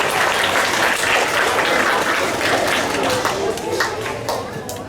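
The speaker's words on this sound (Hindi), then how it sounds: "जोरदार तालियों से स्वागत है" Steady, dense audience applause at a school inter-house Hindi recitation competition, loud and sustained for the full stretch as a young participant is welcomed, easing slightly toward the end.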